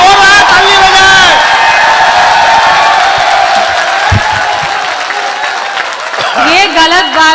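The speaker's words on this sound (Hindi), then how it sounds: "एक बार जोरदार ताली बजाए।" Loud audience applause mixed with cheering and whoops at a live comedy stage show, a dense crowd roar filling the whole clip with voices and shouts over it, fading slightly before swelling again at the end.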